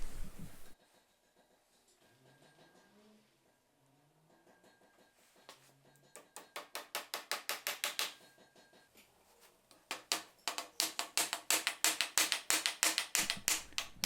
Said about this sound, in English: Now I can go ahead and finish tacking this border strip into place.